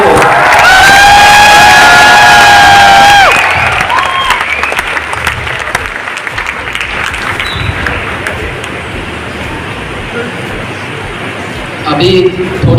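A large crowd at an education event claps and cheers loudly, with shouts and whistles over the start, then sustained applause that stays strong until a voice rises near the end.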